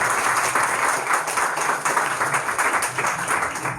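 A church fellowship audience claps loudly and steadily at a Shalom Fellowship Ministry gathering, a dense, continuous wash of applause lasting several seconds with no break.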